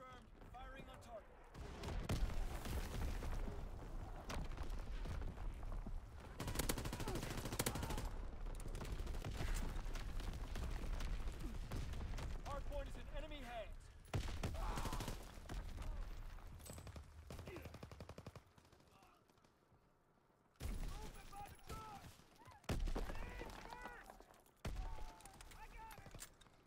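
Video game gunfire with artillery, long stretches of dense automatic shooting and thumps, briefly dropping quieter before resuming, with radio-style voices over it.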